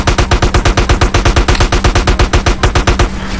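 Rapid machine gun fire from Grand Theft Auto: San Andreas, a loud, steady burst of evenly spaced shots lasting about three seconds before cutting off, with no talking.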